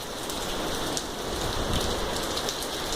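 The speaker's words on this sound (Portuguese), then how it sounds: "Não para de chover." Heavy rain pours onto surfaces near a parked car, a dense, steady hiss of close droplets that never lets up, with no voices heard.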